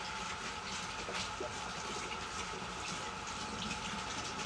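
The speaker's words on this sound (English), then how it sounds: "I'm just gonna give that a quick rinse right here." Running tap water pouring over food during a quick rinse in a home kitchen, a steady close rushing splash with no speech.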